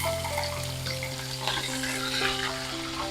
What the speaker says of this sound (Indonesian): Bunda mau goreng terinya.